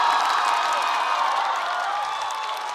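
A live audience at a stand-up comedy competition bursts into sustained applause and cheering, a dense, steady wash of clapping and shouts that stays loud throughout and fades slightly at the end.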